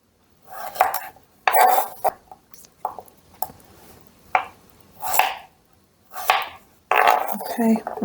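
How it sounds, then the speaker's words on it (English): A knife chops carrots and parsnip into circles on a board, sounding as a series of distinct, fairly close cutting knocks spaced irregularly with short pauses between them. "I'm going to cut just like that in circles."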